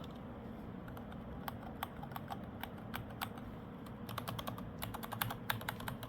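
Rapid typing on a Corsair K70 Max mechanical keyboard, with quick, soft key clicks in uneven bursts that grow busier toward the end, close and fairly quiet with no voices.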